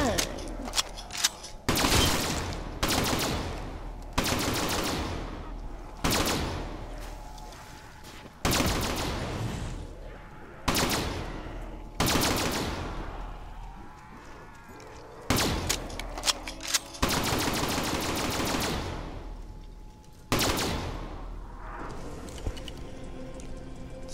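Haymaker rifle firing in Black Ops 3 Zombies on the map The Giant, loud automatic bursts and single cracks coming in uneven clusters with short pauses, close and dominant throughout.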